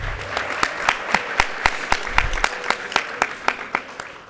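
An audience at a university education pinning ceremony claps for the candidates, a thin scattering of individual claps in a fairly steady rhythm, sounding like a small group in a room.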